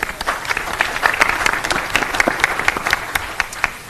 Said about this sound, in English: I think we should give ourselves a round of applause for our A rating.